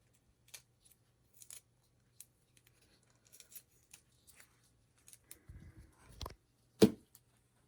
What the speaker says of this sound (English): take a piece of masking tape and tape that to the top of your sponge brush handle